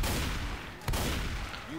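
Gunfire in a cooperative zombie shooter video game, a dense, continuous barrage of shots with one sharp louder crack near the middle, loud and steady throughout with no talk.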